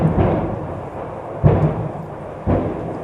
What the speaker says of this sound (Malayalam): ഇടി വെട്ടുന്നതല്ല, പടക്കം പൊട്ടുന്നതാണ്